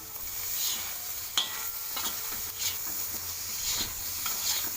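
Chutney ingredients with green chilli and coconut sautéing in a pan, a steady close sizzle broken by a few stirring scrapes and light clinks, no voices.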